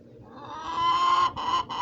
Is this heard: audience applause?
no